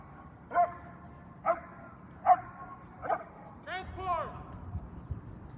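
During a protection dog trial at a national competition, a dog barks in four sharp, evenly spaced single barks, then gives a short whining yelp, heard at moderate distance over low background noise.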